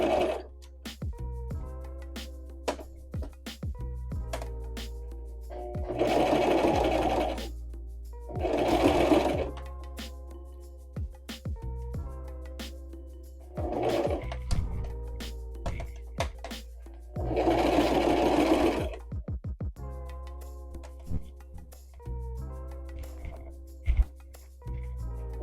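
A sewing machine stitches a flap between the outer bag and the lining of a handmade bag, running in several short, rapid whirring bursts separated by pauses with small clicks and handling sounds, close and fairly quiet.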